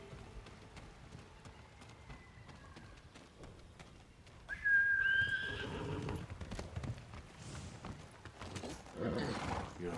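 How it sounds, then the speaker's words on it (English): A horse neighs loudly in a video game, a clear whinny rising mid-clip, with clip-clop hooves and ambient game noise around it. "Good horse, Nobu."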